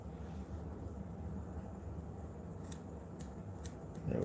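Scissors trimming a schnauzer's eyebrow fur: a few quick, faint snips near the end, set against a steady low background hum with no talking.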